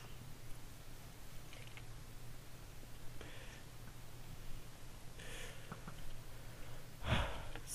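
Heavy, rhythmic breathing and panting of a player seated at a computer during a Minecraft mini-game, close and fairly quiet, with a few sharper breathy bursts over a steady background hum.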